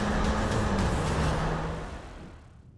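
An Audi SQ2 and an AMG GLA 35, both 2-litre turbo cars, accelerate in a wet drag race, a broad engine roar passing close by and then fading quickly into the distance.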